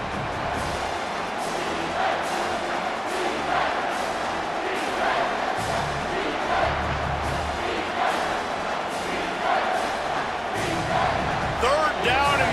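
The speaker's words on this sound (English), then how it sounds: "this crowd will blow out a vocal cord to help this defense" A college football stadium crowd roars for NC State against Clemson, a loud, sustained wall of cheering and shouting that swells in waves while a commentator talks over it.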